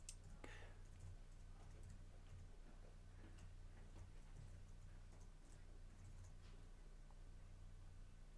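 Faint, quick keyboard typing ticks along in short irregular bursts against a steady low background hum, distant and with no talking.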